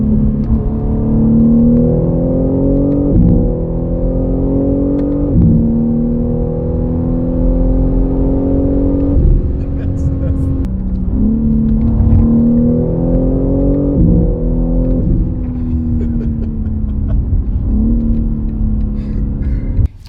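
A 2023 BMW M3 LCI accelerates hard through repeated gear changes, the engine note climbing loudly and dropping at each shift, close and continuous for about twenty seconds.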